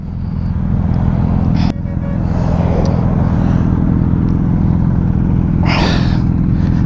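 A motorcycle cruising along a highway, its engine a constant close, loud low rumble under heavy wind buffeting, with a brief whoosh of passing traffic near the end.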